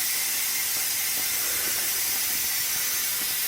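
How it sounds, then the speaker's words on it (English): A pressure cooker vents steam while chicken noodle soup cooks, giving a constant loud, broadband hiss that holds steady throughout at close range. "And that's just the steam release in there."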